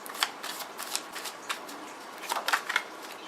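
Tarot cards shuffled by hand in quick, soft riffling bursts with short pauses, close and fairly quiet, with no talking.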